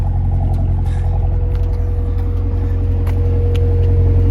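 Camaro ZL1 doing a burnout and shredding its tires, a loud, steady engine roar with a deep rumbling drone held at high revs, with faint squeals and scrapes on top.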